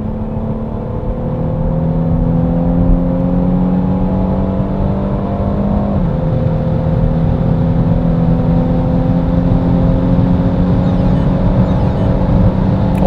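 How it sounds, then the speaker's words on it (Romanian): A Renault Megane Estate 1.6 TCe GT with EDC7 automatic gearbox in seventh gear accelerates hard from 70 km/h with the pedal floored, its engine droning steadily and rising in pitch over road noise, with a brief dip midway. "o să apăs pedala de accelerație la podea să vedem cum răspunde mașina"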